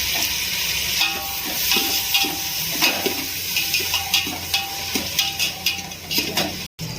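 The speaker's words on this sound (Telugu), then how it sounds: "ఒక 3-4 టమాటాలు కట్ చేసి వేసుకొని ఫ్రై చేసుకోవాలి" Chopped tomatoes fry with onions in a pan for a Telangana-style fish curry. A steady close sizzle carries on throughout, broken by the scrape and clink of a spoon stirring.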